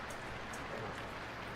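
Rain falls steadily on a car windshield while driving, a dense even patter with a soft hiss that holds at a constant level and is heard on its own, with no voices.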